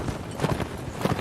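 Horses charging in a video game cavalry battle, a dense clatter of hooves close and loud, irregular beats piling over one another.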